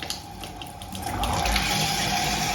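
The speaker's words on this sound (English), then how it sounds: "Turn the hot one. There's the hot water." Hot water gushes from a garage tap turned on at full blast, a steady broadband rush that swells louder about halfway through and then holds constant, with no voices.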